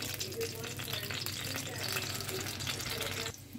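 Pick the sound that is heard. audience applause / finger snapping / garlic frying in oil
garlic frying in oil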